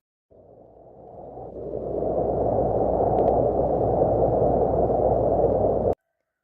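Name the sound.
wind blowing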